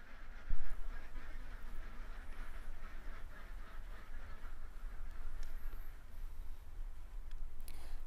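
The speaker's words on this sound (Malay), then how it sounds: "Yang kita lihat di belakang ini ada raban 6 dan nombor 7 yang kami masih aktif menggunakannya untuk peternakan itik telur." Laying ducks on a duck farm quack and honk faintly in the background, scattered calls over a soft outdoor hum, with one brief louder knock near the start.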